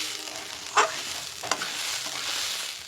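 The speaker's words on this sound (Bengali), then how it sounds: "প্রথমে অল্প অল্প করে দিয়ে এরকম নাড়িয়ে দেখবে" Turmeric is stirred into basanti polao rice frying in a pan, a steady close sizzle with two sharp scraping strokes of the spoon through the grains.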